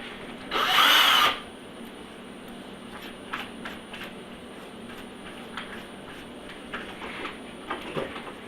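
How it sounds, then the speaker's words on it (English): A short, high whirring burst of a small drill boring into wood for under a second, then quiet with light clicks and taps of handling. "I'll drill a hole right in the middle of that."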